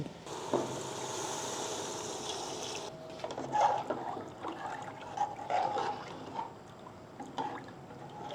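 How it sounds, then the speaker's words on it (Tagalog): Water trickles and splashes steadily into a pot while making beef pares, a continuous pour at close range for a few seconds, followed by softer intermittent drips and small splashes. "maglalagay naman tayo ng tubig"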